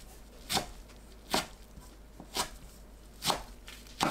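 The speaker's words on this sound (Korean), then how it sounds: "뭉친 부분 풀고 2cm 간격으로 썰어주세요." A knife cuts chamnamul greens into 2 cm lengths on a board, five sharp separate chops spaced about a second apart, close but soft, with a quiet background.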